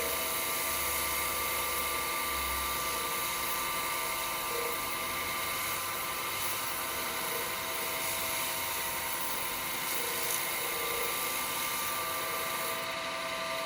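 A wooden bowl spins on a lathe while a tool burnishes it with a handful of its own shavings, giving a steady, even whirring hum with a high whine that holds level throughout, no voices over it.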